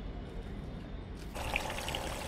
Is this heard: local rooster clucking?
no